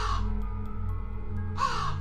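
Crows cawing overhead in an eerie horror-story setting, two harsh caws, one at the start and one near the end, with a quiet low rumble between them.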